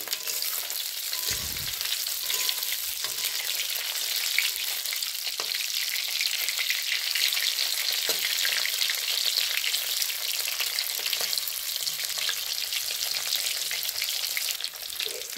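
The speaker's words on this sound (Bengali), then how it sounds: "তো ভোলা মাছগুলোকে ভালো করে ভেজে নিচ্ছি।" Bhola fish frying in a pan, an unbroken bright sizzle and spatter held at an even level, with a low thump near the start and occasional faint clinks.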